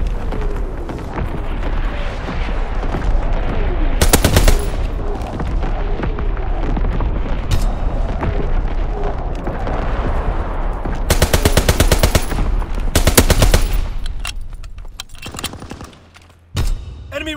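Artillery barrage in the WWII shooter Call of Duty: WWII, a dense sustained roll of booming blasts and rattling gunfire, with heavier clustered bursts of explosions and a brief lull near the end.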